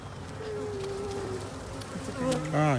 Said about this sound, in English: A dancing bee.